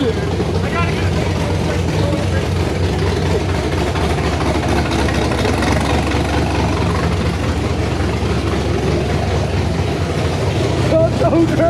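A Camaro built for burnouts idles loudly just after its first start, a steady deep engine rumble filling the whole stretch, with people talking excitedly over it.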